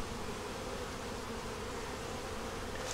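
Honeybees flying around a beehive on a warm winter day make a dense, steady buzzing swarm drone, close and continuous, with no voices.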